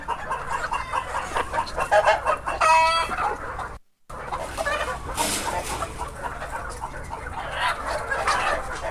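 A rooster crows loudly and close by, with hens clucking around it in a breeding flock of fowl; a short silent gap breaks the sound midway, then clucking and farmyard noise carry on.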